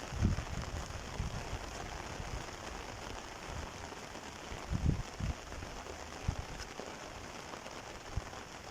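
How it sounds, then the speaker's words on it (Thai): Steady rain patters on a garden after grass has been cut, a dense continuous hiss with a few louder nearby drops, no voices. "ฝนตก"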